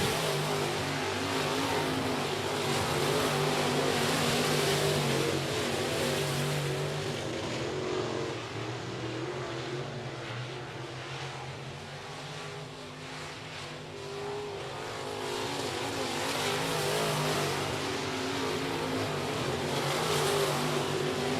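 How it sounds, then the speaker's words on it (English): Modified race cars circle a speedway track during a heat race, a steady, loud engine roar from several cars that swells and fades slightly as they run down the back straightaway, with no talk. "Down the back straightaway they go, and Rick Green got a really nice lead right"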